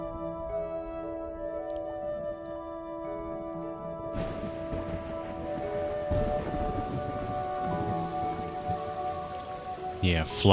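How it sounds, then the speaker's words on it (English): Steady rainfall in the video game Flower, a soft continuous patter that swells and thickens midway, heard alone without voices. "Ooh, it's raining now."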